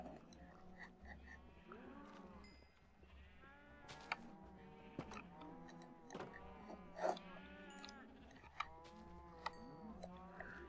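Cows in Minecraft mooing repeatedly, several overlapping low moos and a few higher bleat-like calls spread across the clip, fairly close, with soft game clicks in between and no talk.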